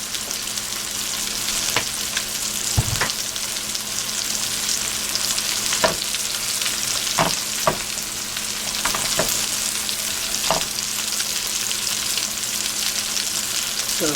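Hamburger patties frying in a pan, a steady, dense sizzle held throughout with occasional louder pops and spatters, close and continuous, no talk.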